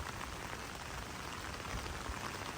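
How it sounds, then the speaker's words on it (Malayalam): Heavy rain falls steadily near the Kanjirakolli hills, a dense, continuous hiss of drops striking surfaces, even and moderately loud throughout, with no speech. "നല്ല മഴ വീണ്ടും വന്നു."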